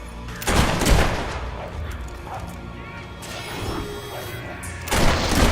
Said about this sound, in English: Marvelous shooting.